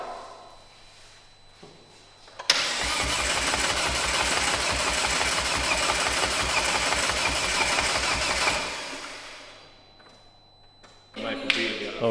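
A car engine in a home garage cranks for about six seconds, a fast rhythmic churning from the starter that rises abruptly and then fades out without catching. Quiet background noise comes before and after.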